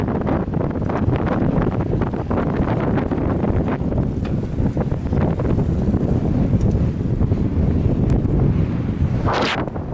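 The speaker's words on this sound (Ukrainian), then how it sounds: "Правда, ветер опять встречный." A strong headwind buffets the microphone while cycling on wet asphalt, a loud continuous rumbling roar with gusty surges throughout.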